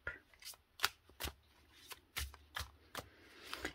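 Oracle cards being shuffled by hand during a card reading, a quiet, close series of crisp riffling flicks and soft slaps at an irregular rhythm, with no talking.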